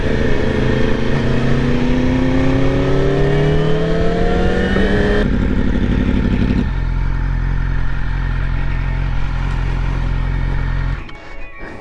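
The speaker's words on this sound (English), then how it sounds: "That freaking exhaust sounds good back there." A motorcycle with a custom exhaust revs up loud and close, its pitch climbing for several seconds, then drops abruptly to a deep, steady idle rumble that cuts off near the end.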